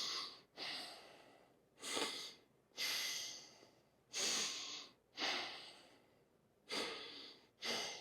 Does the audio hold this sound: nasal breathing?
yes